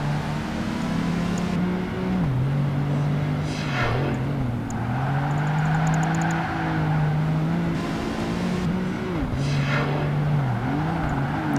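A race car's engine in Project Gotham Racing 2 revs loud and steady, climbing and dropping in pitch through gear changes, with a pass or two sweeping by and no talk.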